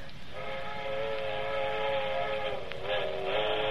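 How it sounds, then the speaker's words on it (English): A drawn-out train whistle sounds as a radio drama effect, a steady harmonic tone lasting several seconds at moderate level, alone without speech. "That's what I like best, them train whistles."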